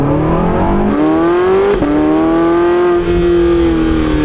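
Porsche 918 Spider plug-in hybrid sports car accelerating hard, a loud continuous engine roar rising in pitch with a brief gear-change dip midway, heard close from on board.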